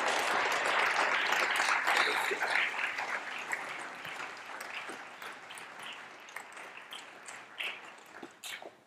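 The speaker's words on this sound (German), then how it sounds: "Und ja, dann nochmal einen großen Applaus." Audience applause after a German lecture on environmental stressors and cardiovascular risk, dense clapping strong at first that thins out and tapers into scattered claps.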